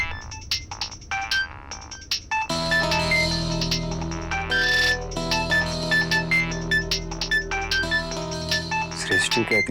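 A phone rings at night in a dramatized crime-show scene, a busy electronic ringtone pattern that starts faintly and turns loud and full after a couple of seconds, layered with dramatic background music.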